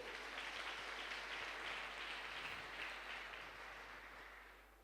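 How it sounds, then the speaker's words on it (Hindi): Audience applause at a stage event honouring a guest, a dense steady wash of clapping from a crowd that holds for several seconds before slowly thinning and fading, with no voices over it. "सबसे पहले इनके लिए जबरदस्त तालियां होनी चाहिए दोस्तों"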